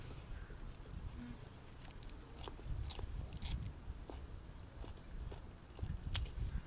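A Diva cucumber is bitten and chewed close up, a faint crunchy munching that runs steadily over soft background noise.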